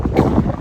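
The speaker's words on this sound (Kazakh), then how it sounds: "қатты жел болады" A strong gust of wind blows through a gap between two mountains and buffets the microphone with a loud, low, rumbling roar. The burst is brief and has no talk.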